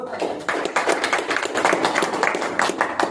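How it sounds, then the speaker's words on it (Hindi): An audience at a sales training seminar bursts into loud, dense clapping for a company CMD, sustained and steady throughout. "सपोर्ट करें, जोरदार तालियां।"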